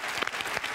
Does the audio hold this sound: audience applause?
yes